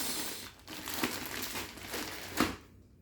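Crinkly plastic packaging of an Olight Perun LED headlight rustles and crunches steadily as scissors cut it, with a couple of sharper snips and crackles standing out near the end.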